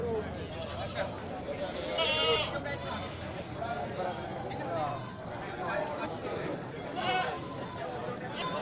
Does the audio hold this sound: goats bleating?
yes